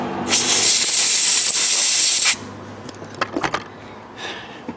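A loud, continuous hissing spray blasts at tiny electrical connector pins from a van's airbag system for about two seconds, then stops abruptly and gives way to a few faint clicks and light taps.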